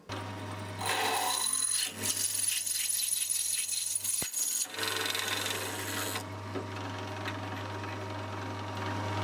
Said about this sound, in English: I can leave the drill going and just drill each one.